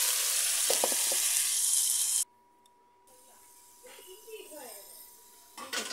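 Fish sizzles loudly in very hot oil while being flipped, a close, hissing fry for about two seconds before it cuts off abruptly to quieter room sound where a voice speaks.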